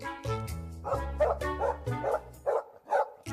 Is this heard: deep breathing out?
no